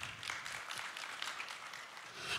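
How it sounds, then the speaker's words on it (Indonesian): A congregation at a Sunday church service applauds, a dense, soft and somewhat distant patter of many hands that holds steady and swells slightly at the end. "Boleh tepuk tangan buat Tuhan."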